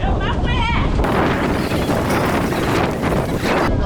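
Strong wind buffets the microphone at a triathlon venue on Tangeum Lake in Chungju, a loud continuous roaring rumble as people talk over it.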